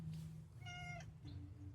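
A cat lets out a single short, clear meow close by, against a quiet background hum with no talking.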